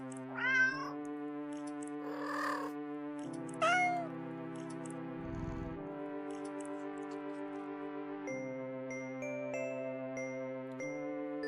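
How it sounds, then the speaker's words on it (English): Cats meow repeatedly while eating fish: several drawn-out, rising and falling meows, fairly close, with quieter tonal sounds and no talking. "The sounds of happy cats munching away on their own fish fills your ears."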